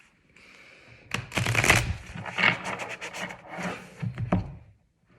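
Oracle cards shuffled and drawn at a tarot reading, a run of quick papery riffles and soft taps, fairly close and moderately loud, with no talking.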